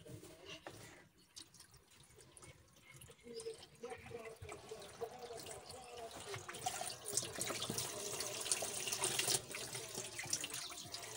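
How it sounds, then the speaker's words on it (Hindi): Water pours steadily through a pipe into a washing machine, growing a little louder and fuller over time, with a continuous splashing hiss and no talking. "जब तक मशीन में पानी भरता है"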